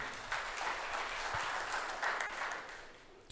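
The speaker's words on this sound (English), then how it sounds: "Give him a round of applause." A short round of applause from an audience at a business entrepreneurs' conference, fairly faint and distant, steady clapping that tapers off at the end.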